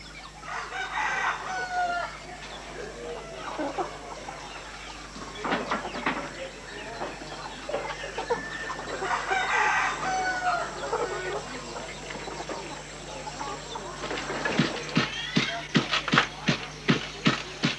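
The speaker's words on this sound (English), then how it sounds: "feeds the 40 chickens to be sacrificed" Forty chickens being fed ahead of a ritual sacrifice cluck and crow, with roosters calling repeatedly at moderate distance, a busy farmyard murmur and a run of sharp pecking or tapping sounds near the end.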